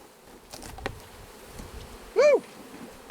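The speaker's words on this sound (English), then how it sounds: "We got bees, folks." Bees swarm inside a freshly opened Bravo 1 hive on a ranch, a thin steady hum running throughout, broken once near the end by a short, loud human whoop.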